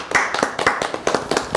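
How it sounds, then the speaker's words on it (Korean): A small group claps in distinct bursts during a studio talk show, sharp close handclaps in an uneven rhythm rather than a continuous wash. "저희 박수 한번 칠까요?"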